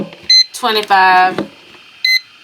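A flip-style digital kitchen timer gives two short, bright electronic beeps about two seconds apart as it is turned over to set the time, with a voice speaking between them.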